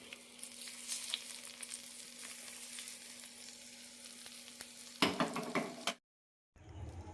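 Chopped shallots and curry leaves sizzle in hot oil as a tempering for a Kerala sardine curry: a soft, steady crackle that flares into a louder burst near the end before cutting to silence.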